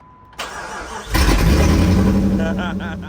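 A Jeep engine cranks and catches, then roars loudly and steadily, with a few revs rising near the end.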